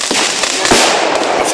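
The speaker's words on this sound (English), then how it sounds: "A firework explodes precisely when he begins to." Firework bursts at an outdoor public firework display, a dense, loud crackling wash with sharper bangs near the start and middle and fizzing sparkle throughout, no voices.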